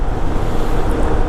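Steady wind roars past a rider on a 1998 Honda Goldwing SE motorcycle on the road, a loud, continuous broadband rush that buries any engine sound.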